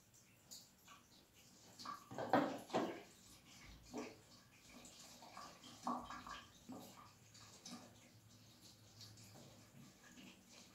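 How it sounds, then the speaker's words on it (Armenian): Water poured into a punctured plastic bottle, with soft irregular splashing and gurgling bursts that rise and fall, quiet and close. "հիմա ջուր եմ լցնում մեջը"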